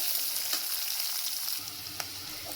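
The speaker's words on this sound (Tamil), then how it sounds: "இப்போது கட் பண்ணி வச்சு வெங்காயம் போட்டுக்கலாம் அது நல்லா பொன்னிறமாக வரட்டும்" Chopped onions fry in a pan for cabbage poriyal, giving a continuous close sizzle with occasional sharp crackles and a few stirring scrapes; no talking.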